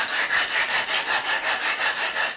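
Blade being sharpened on the coarse 400-grit side of a grooved two-sided glass lapping plate: an aggressive, gritty scraping rasp in steady back-and-forth strokes, close and fairly loud, with no talk.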